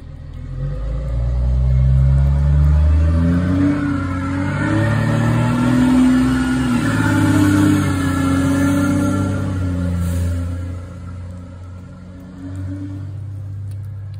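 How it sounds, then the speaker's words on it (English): A big truck rolls past close by, a loud low rumbling engine that swells and then fades as it moves away, with no voices over it. "That was a big truck"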